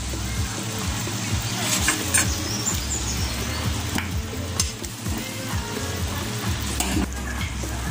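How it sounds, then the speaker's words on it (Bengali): Fried spiny gourd pieces going into a coconut-milk gravy and being stirred: close scraping and clattering of the spoon over a low simmering sizzle, with bumps and knocks scattered throughout. "এরপর এর মধ্যে ভাজা কাঁকরোলগুলি দিয়ে দেবেন।"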